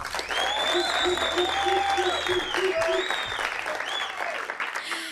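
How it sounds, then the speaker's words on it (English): A studio audience gives a warm round of applause on a South African debate show, dense sustained clapping throughout, with a tonal musical jingle or cheering voices running over it. "let's give them a warm round of applause"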